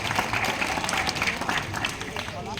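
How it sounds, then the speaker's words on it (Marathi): Scattered audience applause at a Shivaji Jayanti celebration lecture in a village, a thin, steady patter of clapping with crowd murmur running throughout. "त्यामुळं सगळे चोरून चोरून टाळ्या वाजताय"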